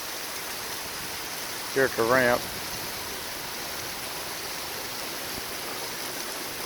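Heavy storm rain pours steadily over a river boat ramp during a fishing contest in Pekin, Illinois, a dense constant hiss throughout, with someone speaking briefly near the start.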